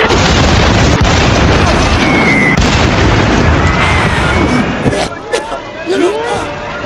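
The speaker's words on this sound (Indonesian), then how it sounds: "Musuh secara tiba-tiba menembakkan satu serangan dadakan yang tepat mengenai bangunan tempat Emma dan bibinya" An artillery shell strikes a building in the World War II film Fury (2014), a loud, sustained roaring blast with crashing debris that thins into scattered pops and crackles.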